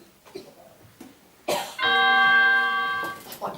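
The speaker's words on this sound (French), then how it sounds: "On a le carillon qui ne fonctionne pas bien aujourd'hui." A doorbell chime rings in a home during a staged comedy play, sustained tonal ringing held for over a second with several bright harmonic tones, after a short burst and faint murmurs from the room.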